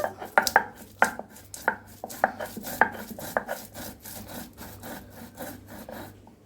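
Cardamom crushed on a grinding stone, a run of sharp, close scraping knocks in a steady rhythm that soften and settle into lighter rubbing toward the end, with no voices.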